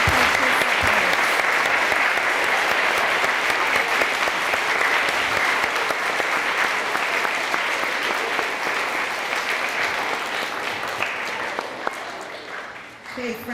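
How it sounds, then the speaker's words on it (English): Sustained applause from a school assembly audience of children and adults at an elementary school, a dense steady clatter of many hands lasting over twelve seconds before tapering off at the end. "let's give a big round of applause to all of our participants."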